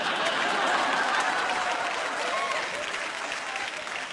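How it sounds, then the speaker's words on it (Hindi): Loud audience applause at a Bollywood music awards show, a thick, continuous roar of clapping from a large crowd that stays strong, easing slightly toward the end, with faint cheers and voices within. "जोरदार तालियां।"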